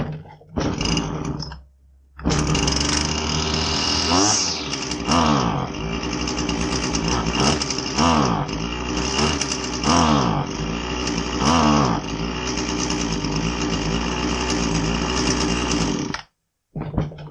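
Husqvarna 525LS string trimmer with a boggy-running two-stroke engine, revved and falling repeatedly in uneven surges, loud and close, with two brief stops where it dies off.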